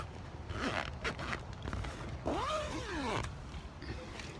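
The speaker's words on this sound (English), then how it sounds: "And then you just zipper it down." Zipper being pulled down on a fabric humidity cover over orchid plants, a short rasping zip with a creaky rising and falling sweep, close and fairly quiet.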